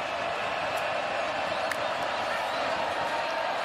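Steady roar of a stadium crowd cheering after a USC Trojans touchdown against San Jose State at a college football game, continuous and fairly loud throughout with faint talk beneath.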